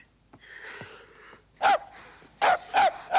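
A dog barks three times in short loud bursts near a house at night, after a stretch of quiet rustling and faint movement.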